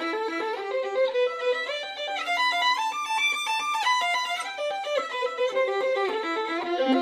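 Bowed viola plays a doubled two-finger left-hand dexterity exercise, with sustained double-stop notes stepping through a steady pattern, close and alone with no talking.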